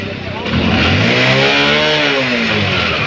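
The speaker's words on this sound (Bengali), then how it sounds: "এই সেই বাইকটা দেখুন, ডিসকভার 100 বাইকটা। এটা দেখি তো, এটা সাউন্ডটা কীরকম দাদা?" A Bajaj Discover 100 motorcycle at a used bike market revs loudly and close, the engine rising and holding at a steady high pitch for a few seconds.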